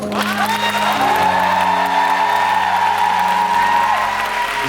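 Audience applause and cheering for the dancers at an encore closing night of a Korean show musical, a dense, steady wash of clapping and whoops with sustained music tones running underneath throughout.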